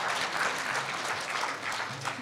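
Audience applause at Korea University's newspaper 70th anniversary ceremony during a scholarship presentation, a full, even burst of many people clapping, close and continuous with no talk over it.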